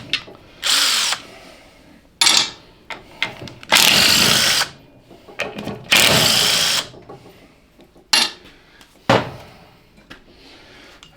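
An impact wrench with a socket hammers at a bolt on a donor engine during a Cub Cadet 582 pulling tractor teardown, loud close bursts of one to two seconds repeated several times with pauses between.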